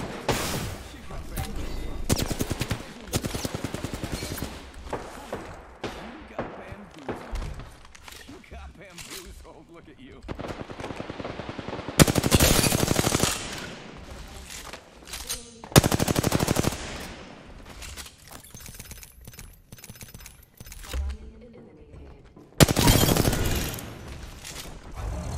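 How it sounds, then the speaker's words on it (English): Rapid automatic gunfire in the Apex Legends video game, coming in loud repeated bursts separated by quieter stretches of game sound. A player talks over parts of it. "There's shots over here."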